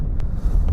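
Low, rumbling wind buffets the microphone outdoors at a wild campsite, a steady blustery roar with brief gust peaks.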